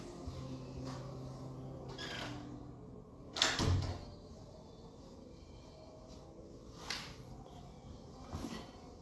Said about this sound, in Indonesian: tutup pintu bentar